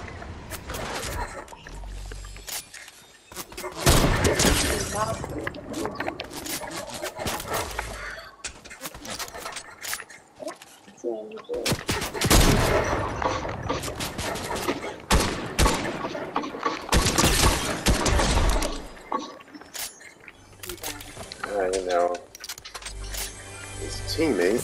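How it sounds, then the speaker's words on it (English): Sniper rifle shots crack out in an online shooter game, several sharp loud reports spaced apart across the scene, mixed with game noise and excited player chatter over the top. "Nice, shot him at over 100 meters"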